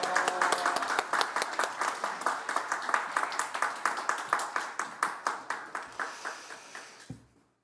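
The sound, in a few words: church congregation applauding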